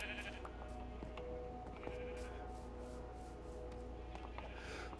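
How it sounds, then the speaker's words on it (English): Sheep bleat repeatedly at a sheep farm in the Minecraft video game, several short calls spread across a steady background with no talking. "the sheep farm is here"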